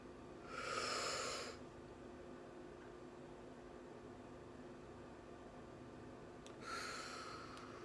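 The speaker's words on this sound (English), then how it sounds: "Breathe in, breathe out" Two slow, deep breaths, each a soft airy rush lasting about a second, separated by a long quiet pause over faint background hiss.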